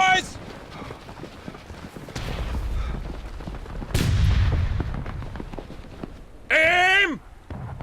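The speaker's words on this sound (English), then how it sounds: "Firing by volley." Rifle volley in the War of Rights Civil War video game, with a sharp crack and broad roaring gunfire bursts amid battlefield noise, and a shouted voice near the end.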